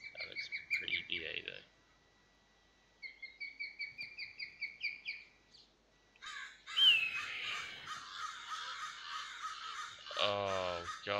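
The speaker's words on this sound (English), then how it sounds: "Oh god, shut up, crows!" Crows cawing outdoors, a run of repeated harsh calls, then a second rapid burst, then louder overlapping caws near the end, close and clear with no talk.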